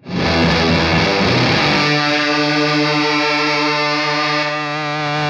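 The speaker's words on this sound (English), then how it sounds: "which is an excellent fuzz box in its own right" An electric guitar through a Sodomizer octave fuzz box sounds a thick, buzzing, heavily saturated note that swells in, then sustains loud and steady for several seconds, with no talking.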